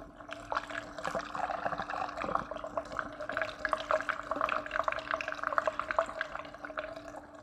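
Washer fluid pours into the reservoir of an Aston Martin DB9, a steady close trickle and gurgle of liquid with a faint constant hum in the background.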